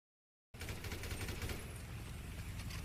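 Steady gunfire in a video game, sustained and dense like machine-gun bursts, starting abruptly after a moment of silence and continuing at an even level.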